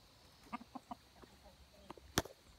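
A few soft, scattered clucks and short bird calls from nearby chickens, with one sharper squawk near the end over quiet background.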